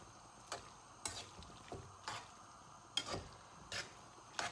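Eggs, mushrooms and bacon are stirred in a pan for carbonara, with soft scraping strokes landing about once a second, quiet and close over a faint low sizzle.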